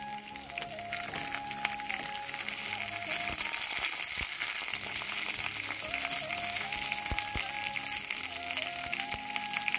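Curry leaves and plantain with moong dal fry in a pan for a Kerala thoran, a steady close sizzle with scraping stir strokes throughout, no talk.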